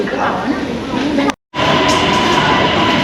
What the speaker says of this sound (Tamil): வந்துருச்சு பாருங்கள் நம்மளோட எம்ஆர்டி வந்துருச்சு